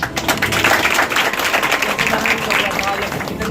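Students at a competitive exam coaching class clap loudly for the speakers in a room. The rapid, busy clapping is close and continuous, with voices mixed in.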